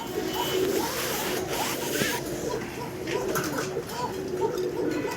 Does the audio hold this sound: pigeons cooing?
yes